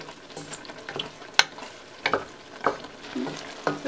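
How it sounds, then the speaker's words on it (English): Jajangmyeon black bean sauce simmering and being stirred in a pan, with soft bubbling sizzle under scattered scraping and clinking of a utensil, one sharp knock near the middle, no talking. "it has been simmering for like 10 minutes now"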